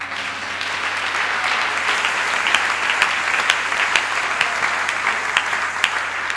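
A church congregation applauds together with dense, sustained clapping that fills the room at a steady, fairly loud level.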